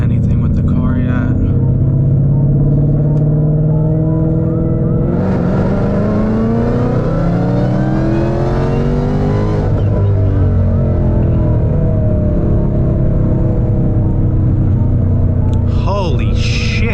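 Car on E85 fuel accelerating hard, a loud engine roar with rising pitch sweeps and a deep rumble that climbs steadily before easing off, close and continuous, with excited voices over it.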